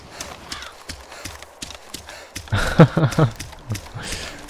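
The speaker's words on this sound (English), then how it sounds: "It's a goat, everybody." Hooves or footfalls of a goat running in the ArmA 2 DayZ mod, a series of quick thuds that gets louder partway through, with chatter and game noise around it.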